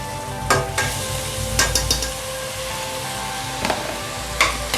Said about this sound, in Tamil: ஒரு 5 செகண்ட் லைட்டாக கிளறி விட்டுக்கலாம்